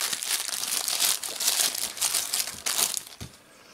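Plastic packaging around the cables of an AVerMedia Live Gamer Portable Lite capture card is torn open, giving loud, continuous close-up crinkling and crackling for several seconds before easing off.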